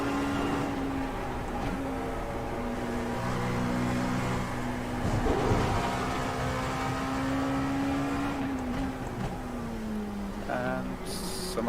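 Race cars run during practice at the Sebring 12 Hours, a steady engine drone with a sustained tone that shifts slightly in pitch across several seconds, distant and moderate, with faint talk and a brief higher burst near the end.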